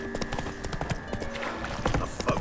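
Roach the horse galloping in The Witcher 3, a rapid, steady clatter of hooves close by, with faint horse snorts mixed in.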